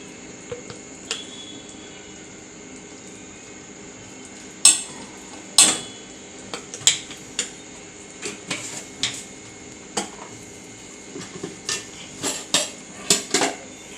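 A spoon clinks and scrapes against a pan while ginger garlic paste goes in during chole cooking, with a series of light, sharp taps and clatters over a faint steady background hiss.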